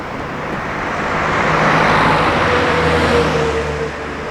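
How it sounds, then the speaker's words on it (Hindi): A car drives along a mountain road from Kullu toward Shimla, with a steady roar of engine and tyres on the road, swelling slightly in the middle, heard from inside the vehicle with no talk. "और हम लोग अभी गाड़ी में बैठ के निकल चुके हैं शिमला के लिए।"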